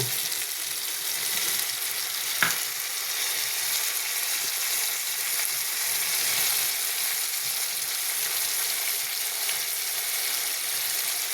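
Ground ginger, black pepper and green chili paste with whole cumin go into a hot pan for a paneer curry, giving a steady, close sizzle of frying oil throughout with one brief sharp tap near the start.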